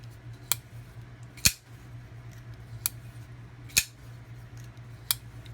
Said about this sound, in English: we pop the knife open, let it lock up there, maybe even spread it around a little bit